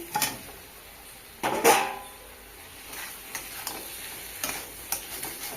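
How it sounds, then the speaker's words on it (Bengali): Fried potatoes tip into a pan of sizzling spiced masala for an egg potato curry. A soft sizzle runs throughout, broken by a few louder clatters and stirring scrapes. "মশলা দিয়ে কষিয়ে নিয়েছি, ভেজে রাখা আলু দিয়ে দিচ্ছি"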